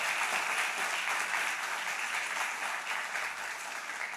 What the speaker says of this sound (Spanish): Por eso, denle ese aplauso.